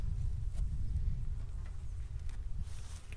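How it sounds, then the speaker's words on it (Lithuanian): Low, steady buzzing of hornets flying close by around beehives, a continuous droning hum with no voices. "Širšuoliai skraido"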